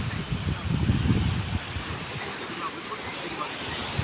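Strong wind buffets the microphone at Velneshwar beach in Guhagar on the Konkan coast, with sea waves surging beneath it in a loud, rolling rumble that swells early and then holds steady.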